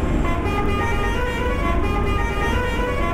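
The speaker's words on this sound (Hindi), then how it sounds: "चलो एक हॉर्न सुना देता हूँ आपको।" A bus horn sounds in the Indian Bus Simulator game on a Veera V8 highway ride, a loud sustained tonal blast held over a low engine and road rumble for the whole stretch.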